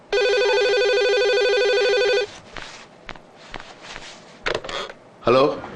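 An electronic telephone ringing loudly and steadily for about two seconds, then stopping, followed by footsteps, rustling and brief handling noises nearby.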